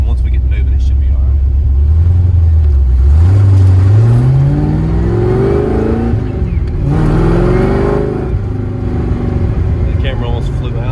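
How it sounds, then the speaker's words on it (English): A car accelerating at full throttle on a cold test drive, its engine rising in pitch through the gears with a brief shift gap, loud and close, while a person talks over it. "Almost flew out right off the bat, so we know full throttle pulls."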